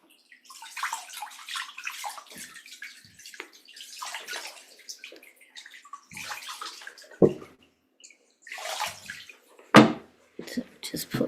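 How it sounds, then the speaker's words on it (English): Water poured from a bowl into a toilet, intermittent splashing and gurgling bursts in uneven pulses with a couple of sharper splashes, close by and fairly loud, with brief pauses between pours. "Then when we pour it away,"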